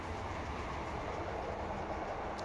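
The Kalka Mail passenger train runs along the track toward Kalka, a steady dense rumble of wheels and carriages heard from inside, continuous and even throughout with no voices.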